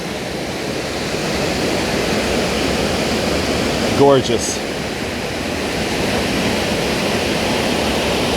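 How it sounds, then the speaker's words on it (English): Choke Creek Falls in Pennsylvania's Pinchot State Forest pours in a steady, loud, broadband rush heard close at its base, with a brief spoken exclamation partway through. "Right at the base of the waterfall."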